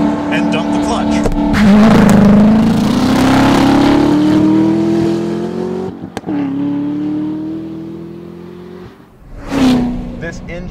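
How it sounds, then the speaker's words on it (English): A Corvette ZR1 sports car engine roars loud and near through a launch-control start, its pitch climbing steadily through the gears with a brief break between shifts, while someone talks over it. "We're going to try launch control on a Corvette ZR1."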